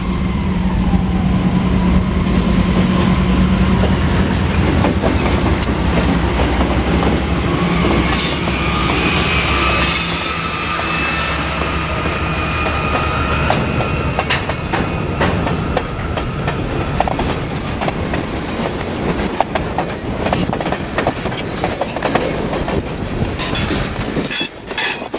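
A Seminole Gulf Railway Desoto Turn freight train rolls past close by near the Arcadia wye, with a steady rumble, rhythmic clickety-clack of wheels over rail joints and thin wheel squeal running throughout.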